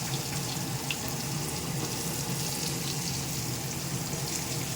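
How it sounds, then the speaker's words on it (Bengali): Eggplant slices frying in hot oil, a steady, loud, hissing sizzle that holds evenly throughout with no pauses or voices. "তেল গরম হয়ে গেছে, এবারে ভাজবো বেগুন। দিয়ে দিলাম বেগুনগুলো, বেগুনগুলো ভেজে নিচ্ছি।"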